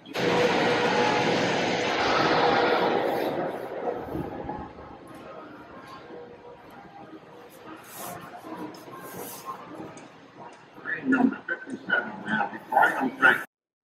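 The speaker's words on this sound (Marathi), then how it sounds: "सो मी जस्ट बटन प्रेस केलं आणि ही ट्रेन अशी जात आहे" A button-operated model train runs through a detailed model of Wilmington city in a railroad museum, a loud close hiss and rumble at first that fades under quieter room noise, followed by voices talking.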